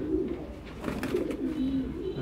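Pair of fancy chocolate pigeons in a cage giving soft, low, close cooing calls that repeat and overlap, with faint rustling behind them.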